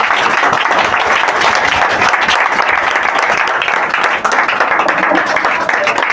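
A church congregation bursts into sustained, dense applause, many hands clapping loudly and steadily for several seconds with a voice speaking over it.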